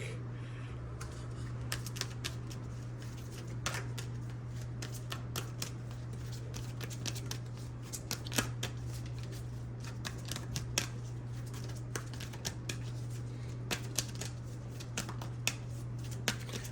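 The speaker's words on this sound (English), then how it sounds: "let's go ahead and draw one more card" Someone shuffles a numerology card deck in a steady run of soft riffles and flicks that lasts over fifteen seconds, close and quiet over a constant low electrical hum.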